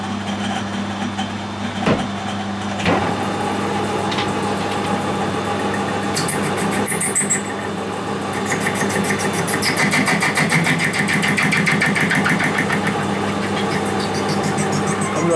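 A metal lathe faces and parts off a plastic bar, a steady motor drone with a sharper cutting whine rising in the second half, loud and close.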